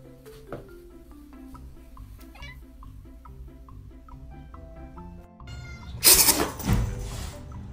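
A cat meows several times over quiet background sounds, short pitched calls spaced apart, followed by a louder burst of noise near the end.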